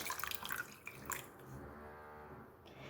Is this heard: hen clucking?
no